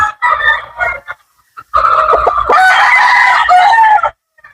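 A gamefowl rooster, an Allen cross from a yellow-legged hatch line, gives short clucks and then a loud, close, drawn-out crow with brief pauses between calls.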